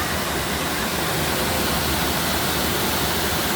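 Large Aruvikuzhy waterfall in Kerala close from the right side, a dense, unbroken roar of falling water filling the air, loud and steady with no voices.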